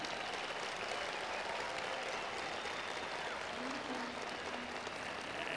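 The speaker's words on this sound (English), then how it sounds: "I think we should clap for the Republic of South Sudan" Applause from an outdoor crowd at a classical music event in Nairobi's Uhuru Park, celebrating the Republic of South Sudan; steady, even clapping runs continuously and fairly distant, with faint murmuring underneath.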